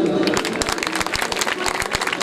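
A theatre audience at a staged drama performance claps loudly and steadily, a dense wash of close applause filling the whole moment.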